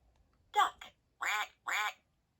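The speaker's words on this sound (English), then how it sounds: "The duck waddles to and fro." A cartoon farm duck quacks three times in quick succession, each call clear and close with short silent gaps between, alone with no other sounds.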